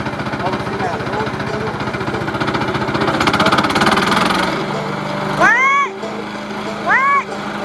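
A DR Premier 300 wood chipper and leaf shredder engine runs steadily with a loud, throbbing mechanical drone that swells slightly, then a couple of rising whistle-like tones cut in near the end as people talk over it.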